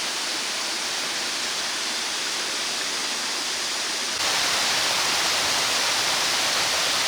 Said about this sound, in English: On the way we'll check out these beautiful little cascades.